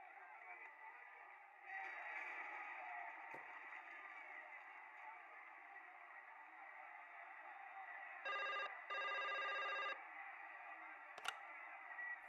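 An old-style electronic telephone in the Broken Sword 5 video game rings in a few bursts over a steady background hum, with a louder double ring near the end.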